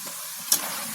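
Peanut pakoda frying in hot oil gives a steady, soft hiss for a moment, with a brief brighter crackle partway through.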